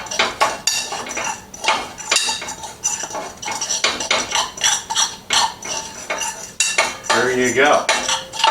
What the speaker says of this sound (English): So that's our fluffed rice.